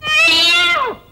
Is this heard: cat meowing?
yes